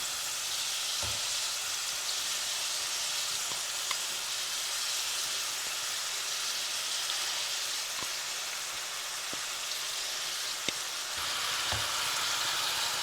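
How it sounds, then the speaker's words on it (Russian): Pieces of pork fry in a pan until golden, giving a steady close-up sizzle with occasional sharp pops and faint clicks of stirring, with no talking. "и жарим мясо до золотистости"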